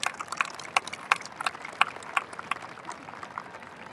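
Audience at a 2025 high school graduation claps, a thin scattered applause with a few sharp distinct claps standing out at a roughly regular pace, fairly quiet and distant.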